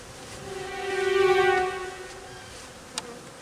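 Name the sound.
bees buzzing during beekeeping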